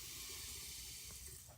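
Liquid poured into a soap mixture while making sea and sand soap, a steady close hiss of flowing liquid throughout, fairly quiet, with no talking.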